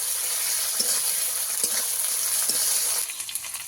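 Ginger and garlic paste frying with tomato and onion in a pan, a dense, close, continuous sizzle with soft stirring scrapes scattered through, no voices, quieting slightly near the end.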